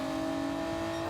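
A Toyota Supra in a racing video game roars past with a strong, steady engine tone that holds through a brief one-second pass.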